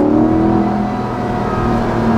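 A 2020 Chevrolet Corvette Stingray 1LT convertible pulls in second gear, its engine drone steady and loud from inside the cabin for a couple of seconds with no one speaking.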